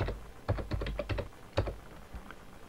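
Rapid, irregular keystrokes on a computer keyboard as an admin password is typed in, a close series of sharp clicks with short pauses, no voices.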